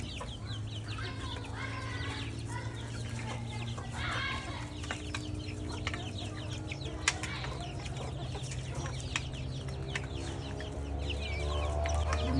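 Desi chickens cluck and call on a rooftop, a steady mix of nearby clucks and chirps over a constant low hum, with birds calling throughout and no talk.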